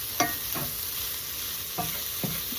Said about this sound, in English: I like to get the meat nice and browned up